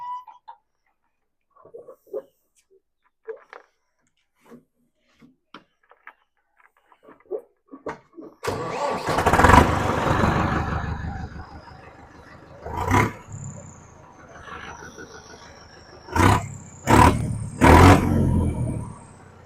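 A Leyland-engined tractor, quiet at first apart from faint clicks, then its diesel catches around halfway and runs loud and close, with a few sharp bursts of revving near the end.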